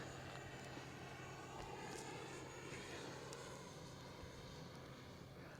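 A model F-15 jet with twin 64mm ducted fans drones steadily overhead on a slow pass, a continuous airy engine roar with a faint whine, holding at a moderate distance without fading away.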